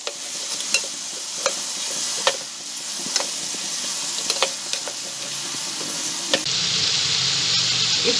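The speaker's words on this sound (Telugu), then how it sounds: "ఆయిల్ వేడయ్యాక గుమ్మడికాయ ముక్కలు వేసుకోవాలి" Pumpkin pieces sizzle and fry in hot oil in a pan on the stove, with a steady crackling hiss broken by sharp stirring clacks. The frying grows louder and denser toward the end.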